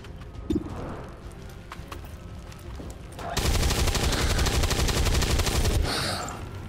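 Gunfire from weapons in the X-Com 2 video game swells into a dense, sustained rapid burst lasting several seconds after scattered earlier shots and background noise, loud and continuous before easing off.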